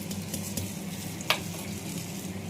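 Cauliflower and potato frying in hot oil, a steady soft sizzle with a low cooking hum and one brief sharp clink or scrape, close and continuous.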